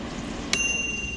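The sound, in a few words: Chefman air fryer end-of-cooking bell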